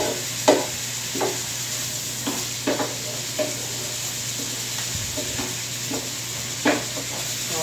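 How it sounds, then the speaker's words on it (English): Minced mushrooms sizzling in a pan while being stirred, a steady soft hiss with intermittent scraping knocks from the utensil at irregular intervals, close and clear. "Just gonna mix that up together there, get our mushrooms to sweating."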